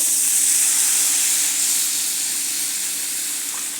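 A steady, bright hiss of steam and sizzling as water is poured into a hot frying pan while making zunka, filling the whole stretch and slowly easing off toward the end.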